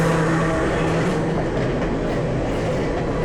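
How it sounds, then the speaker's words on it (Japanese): An Enoden electric commuter train rumbles past close by, a loud continuous roar of wheels and carriages on the rails, with no voices. "ちょっと海が見えてるところにいい角度で江ノ電がやってきたので"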